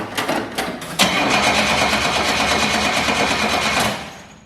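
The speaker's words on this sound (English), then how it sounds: "Hit the gas as it's cranking." An old engine on a 51-year-old greasy, rusty machine cranks with a loud, continuous churning drone after a few quick stuttering turns, then dies away, with no talk over it.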